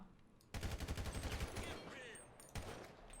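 Rapid burst of automatic gunfire from a GTA 5 shootout, about a dozen sharp shots in quick rhythm, then a pause and a single loud shot near the end, all close and loud.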